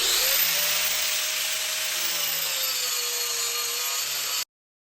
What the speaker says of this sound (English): An angle grinder with a coarse grit, here I'm using a 60 grit, does a nice job of speeding up the fleshing process.